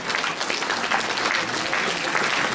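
A congregation keeps clapping at a church anniversary gathering in Kathmandu as committee members are called forward. The applause is dense and continuous at close range, with no voices heard above it.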